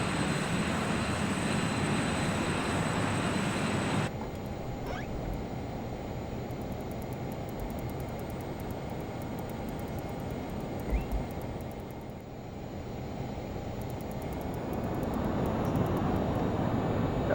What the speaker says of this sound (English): Okay, we're on the takeoff roll.